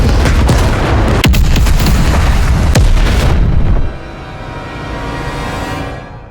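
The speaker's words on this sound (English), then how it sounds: "But we're caught up in the bombardment of the bombers." Bombers pound the area in Call of Duty Cold War: loud, continuous rumbling explosions with sharp blasts layered in, then a sudden drop to a quieter, fading roar.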